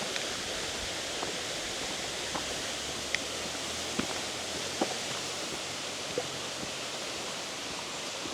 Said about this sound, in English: You can hear the waterfall